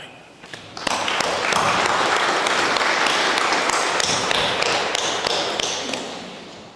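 Applause from mourners at a funeral service, a sustained round of clapping that starts after a brief pause and holds steady before tapering off, fairly close and filling the room.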